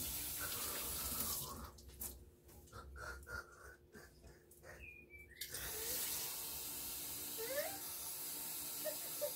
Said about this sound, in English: And I'm gonna put water.